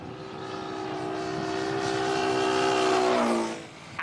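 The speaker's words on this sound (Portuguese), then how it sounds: "Ouça atentamente o som do motor." A small propeller plane's engine drones steadily at Hong Kong International Airport, growing louder as it nears, its pitch dropping as it passes, then fading slightly at the end.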